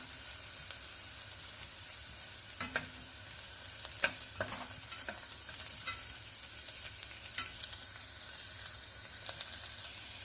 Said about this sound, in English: Once the onion color turns, I am going to add 2 green chili.